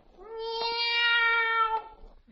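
A boy imitates a cat's meow in a radio drama, giving one long, clear, drawn-out mew that holds steady and then falls away, heard alone and close.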